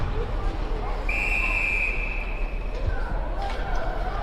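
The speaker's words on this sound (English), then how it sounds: "Ref blows his whistle." A referee's whistle blows one sustained, shrill blast over a noisy ice hockey arena crowd at a youth game, followed by faint quieter whistle tones.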